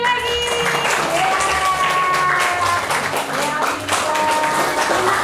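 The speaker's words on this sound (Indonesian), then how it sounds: "Tepuk tangan sekali lagi" A group of children clapping together in a classroom, a dense continuous patter of many small hands, close and lively, with adult and children's voices talking over it.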